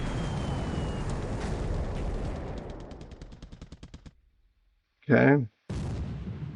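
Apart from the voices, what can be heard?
torpedo hits on ships, video game War in the Pacific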